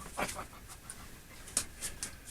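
Molly the dog panting in short, quick breaths, fairly close, with a few brief sharper bursts over a quiet room, no talking.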